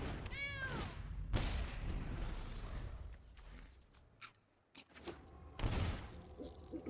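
A cat card in Magic: The Gathering Arena gives a short rising meow near the start, followed by sharp game effect bursts, clattering impacts and quieter clicks. The sounds are fairly faint and there is no talk.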